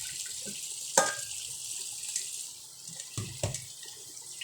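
Water from a kitchen tap runs into a sink during dishwashing, a steady faint hiss with a clatter of dishes near the start and a couple of soft knocks toward the end, no talking.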